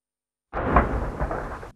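Artillery fire, Turkish guns shelling positions in northern Syria: a single heavy boom bursts in after silence and rumbles on for about a second before cutting off.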